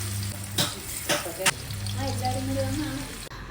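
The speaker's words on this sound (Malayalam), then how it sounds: "മീനാണ് ഫ്രൈ ചെയ്യുന്നത്" Fish fries in a hot pan, giving a steady crackling sizzle with a few sharp spits and pops. A low hum runs underneath and a voice can be heard faintly.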